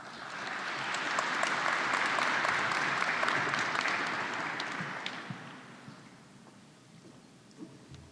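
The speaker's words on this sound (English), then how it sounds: "Let's have a round of applause for all of our PhD graduates." Sustained audience applause for PhD graduates at a fall electrical and computer engineering commencement ceremony, a loud even roar of many clapping hands that swells, holds for several seconds, then thins out near the end.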